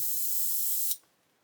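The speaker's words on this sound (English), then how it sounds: "So I'm just going to do a little test spray again." A steady hiss of an aerosol clear coat test spray held for just under a second, then cut off abruptly, leaving near silence.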